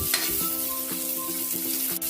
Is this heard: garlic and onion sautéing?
yes